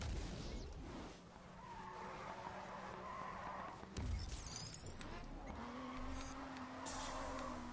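A car drifts through a mountain course in the racing game GRID 2, its tires squealing in long sustained screeches over a loud engine drone, with a sharp skid burst midway.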